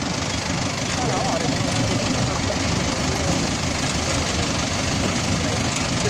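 A motorcycle engine idles with a steady rumble, continuous and fairly loud throughout, with a low uneven chug underneath.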